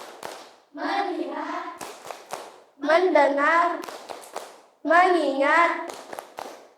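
Schoolchildren in a classroom clap a rhythmic pattern while chanting together, loud close bursts of hand claps falling between three sung phrases.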